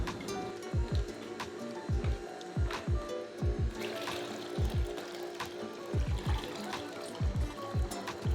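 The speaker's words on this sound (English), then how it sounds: "just turn it on and just scoop in some almonds along with a bit of water and keep alternating until you've run everything through" Nama J2 cold press juicer grinds almonds with water, producing a steady mechanical hum with regular low rhythmic thumps and clicks about twice a second, plus occasional liquid trickling, close and moderately quiet.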